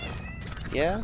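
A house cat gives a short meow close by toward the end, rising then falling, while a person briefly speaks over a low background hum.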